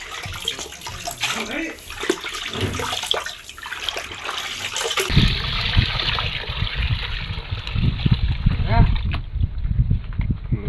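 Water is poured into shrimp feed mixed with jaggery syrup and vitamin C, starting as a light trickle and then turning into a loud, steady gushing pour for the second half, with a person talking over it.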